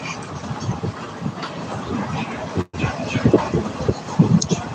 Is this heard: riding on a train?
yes